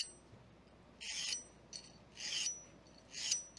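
A hand file cuts a tooth into a clamped workpiece in three rasping strokes, each a bright scraping burst with short pauses between them.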